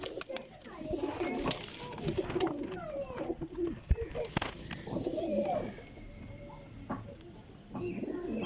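Several pigeons, including golden and Lakha breeds, coo and burble nearby in soft, rolling calls, with occasional voices and rustling in the background, at a pigeon loft in Jhelum.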